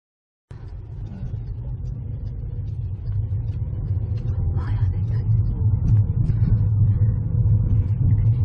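A car driving along a road in Knysna, with a continuous low rumble of engine and tyres that grows slightly louder and holds steady.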